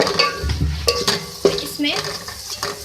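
Cumin seeds hit hot oil in a pan for a palak aloo gravy, bursting into loud crackling sizzles with sharp pops and a few clinks of a spoon against the pan.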